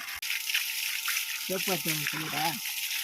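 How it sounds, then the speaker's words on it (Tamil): Water gushes from the outlet of a Texmo 1 HP motor pump as a soft, continuous hiss, with a voice speaking briefly over it partway through. "தண்ணியோட அவுட்புட் பார்த்தா சூப்பராக இருக்குது"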